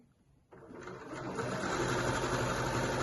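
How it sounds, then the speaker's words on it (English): A sewing machine stitches two layers of fleece and jersey together for a snood. After a brief quiet moment it starts up into a steady, close, continuous whirring hum that runs without pause and without voices. "So you're only sewing together those two layers, the fleece and the jersey."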